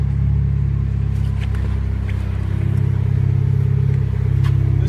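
Turbocharged engine of a 2014 Mitsubishi Lancer Evo rumbles steadily up close, a low continuous drone with faint light clatter on top, no voices.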